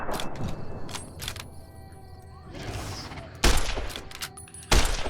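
Gunfire in Fallout New Vegas against enemies: a few sharp, loud shots with impacts, two heavy bursts standing out near the end among scattered clatter and thuds.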